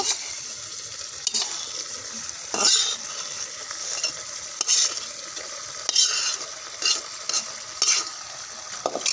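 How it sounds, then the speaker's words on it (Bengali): Fried potatoes and eggplant are stirred in a pot during a beef tripe dish, with repeated scraping strokes of a spoon over a steady frying sizzle and no talk. "দিয়ে এটাকে ভালো করে কষিয়ে নেব"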